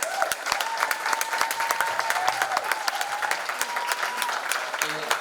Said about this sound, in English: I'd like to give all these departments another big round of applause